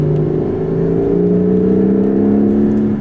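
A Porsche 911 Carrera GTS hybrid with its new 3.6 engine roars loud and close, a smooth, steady harmonic growl that rises slightly in pitch as it revs, with no voices.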